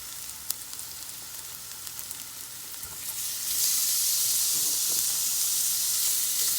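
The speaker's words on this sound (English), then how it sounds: "now I'm going to actually start to add in my shrimp" Shrimp frying in a hot pan: a soft background sizzle swells into a loud, steady crackling hiss as the shrimp hit the oil, continuing close and unbroken with no talk.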